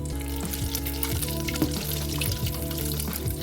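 Macaroni and cheese fries dropped into hot oil on high heat, giving a steady, bubbling sizzle with crackling spatter that holds close and continuous without any voice.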